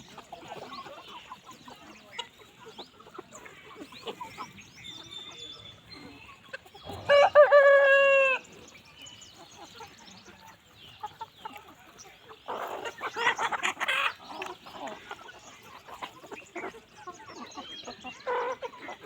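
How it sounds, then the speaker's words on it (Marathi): Kaveri breed chickens in a small poultry shed cluck in scattered bursts, with one loud rooster crow in the middle and a livelier spell of clucking near the end. "माझ्याकडे दीडशे कोंबड्या आहेत आता कावेरी"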